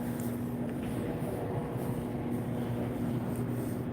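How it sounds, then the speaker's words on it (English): A metro train approaches through a station or tunnel, heard as a steady, dense rumble with a constant low hum and faint higher rail squeals. Loud and continuous throughout, with no voices. "Yeah, train's coming now. I hear it."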